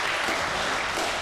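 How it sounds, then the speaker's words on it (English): City employees at a team race awards ceremony applaud themselves, a brief burst of dense, loud clapping from a sizable crowd, steady from start to finish. "Give yourself a round of applause."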